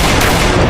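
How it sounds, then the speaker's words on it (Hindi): Gunfire breaking out amid a burst of firecrackers, a dense, continuous crackle of rapid shots that fills the whole moment loudly with no gaps and no voices. "तभी वहां पर पटाखों की आवाज की सेंध में कोई गोलीबारी शुरू कर देता है।"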